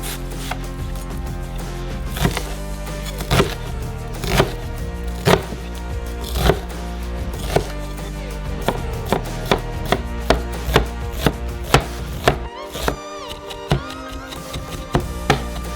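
A knife chops a large peeled onion finely on a board, a fast, steady run of close, crisp thuds continuing for about fifteen seconds with a brief pause near the end, and nobody speaking.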